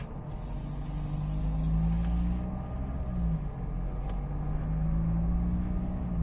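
Idling 2019 Renault Clio 4 with a 90 hp 1.5 dCi diesel engine and EDC automatic gearbox, a steady low engine rumble with a faint mechanical whine, continuous and close, with no talking.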